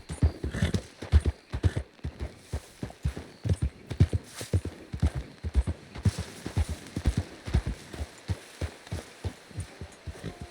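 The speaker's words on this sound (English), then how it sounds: "The horse is just freaking out for no reason." Horse hooves clip-clop in a quick, uneven rhythm in the video game Red Dead Redemption 2 as the horse spooks, close and clear, with no voices over them.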